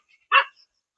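A village dog lets out a single short, sharp bark near a mango tree, close and loud against otherwise quiet surroundings.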